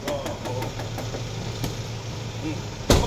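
A Daihatsu Taruna CSX 2000 engine runs at idle with a steady low hum and a few light knocks, under faint background voices, ending in a sharp bump.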